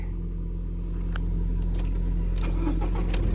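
A car engine starting up, a low steady rumble that builds with brief clicks and rattles on top, close and moderately loud, no voices.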